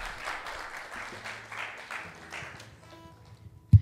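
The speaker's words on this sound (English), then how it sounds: "give him a round of applause" An audience at a church gathering claps to welcome a newcomer, with moderate applause through the first few seconds that thins and fades out, ending with a single sharp knock.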